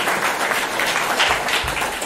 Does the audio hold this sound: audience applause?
yes